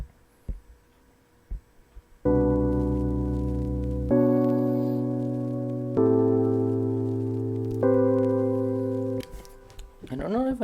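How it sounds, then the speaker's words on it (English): A GarageBand Dusty Record synth keyboard plays sustained, harmonically rich chords in several held blocks, loud and steady, with a faint vinyl-style crackle underneath and no voices. "You have the Dusty Record synth"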